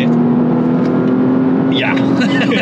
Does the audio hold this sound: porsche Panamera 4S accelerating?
yes